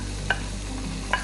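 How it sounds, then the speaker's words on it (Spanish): Minced meat going into vegetables frying in a pan, with two short scraping clinks of a utensil over a soft, steady sizzle, close and fairly quiet, with no voices. "ahora es momento de agregarle la carne picada."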